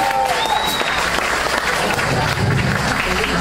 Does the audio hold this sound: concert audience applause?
yes